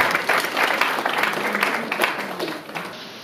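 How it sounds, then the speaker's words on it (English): Applause from the audience at a hospitality institute's 2019 convocation ceremony, a steady burst of many hands clapping that fades slightly toward the end. "Please give her an applause."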